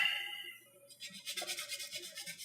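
Sandpaper is rubbed back and forth by hand, about ten quick rhythmic strokes close up after a short quiet start.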